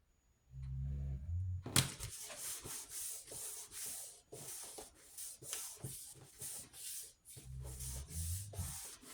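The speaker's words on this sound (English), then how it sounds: "You want to make sure that this is adhered down really well. Just go over it with your bone folder." A bone folder rubs firmly back and forth over paper album pages, making a close, dry scraping in repeated strokes that come in quick bursts with brief pauses.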